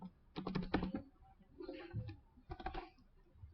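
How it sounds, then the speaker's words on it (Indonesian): Quiet, close typing on a computer keyboard comes in three short bursts of rapid clicks separated by brief pauses, with no talk. "Kuning harganya saya kosongkan di data master, jadi kita harus ketik manual di sini"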